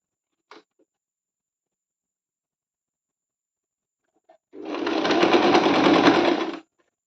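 A sewing machine stitches a neck lining in one close burst of about two seconds of fast, even whirring. A faint tap comes before it, and near silence fills the rest.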